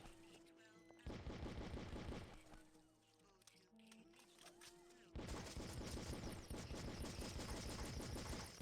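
In the video game Outcast, a gun fires in rapid automatic bursts, loud and close, with dense rattling volleys separated by short pauses and no speech.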